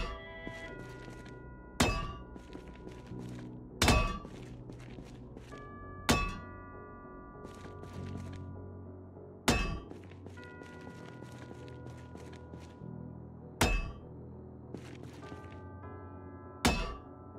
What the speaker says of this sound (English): Very weird way of destroying an American flag with a sledgehammer.